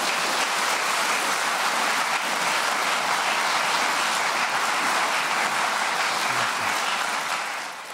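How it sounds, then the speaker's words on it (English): Loud, dense studio audience applause fills the Radio Theatre during a radio quiz show, a continuous roar of many hands that stays even throughout before tapering off at the very end. "riotous round of applause"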